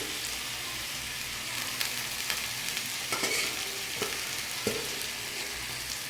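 Greens, parboiled and drained, go into a pan with a ginger and mustard seed tempering, giving a close, continuous sizzle with sharp clatters and scrapes of stirring spaced every second or so, and no talking.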